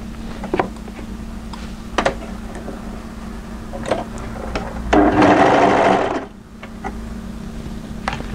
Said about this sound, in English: So I'm going to start overlocking around about here.